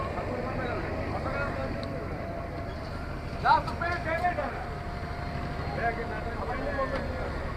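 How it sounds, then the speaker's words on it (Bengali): Steady engine drone and water rush aboard the MV Sampad, a large passenger launch travelling the river from Bhola toward Dhaka, a continuous low hum throughout with someone talking over it. "আমাদের লঞ্চ অলরেডি ব্যাগার দিয়ে এখন চলে যাচ্ছে ঢাকার উদ্দেশ্যে"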